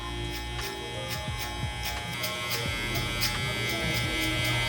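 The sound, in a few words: electric hair clipper cutting a burst fade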